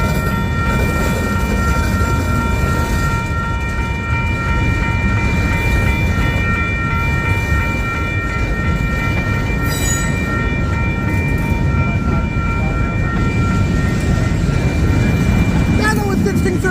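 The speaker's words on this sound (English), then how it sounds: "Now I got a triple train video after all." Triple-headed freight train led by Norfolk Southern and Union Pacific locomotives rolling past at close range, a loud continuous rumble of wheels and cars with steady tonal squeal and a brief horn-like sound, people talking underneath.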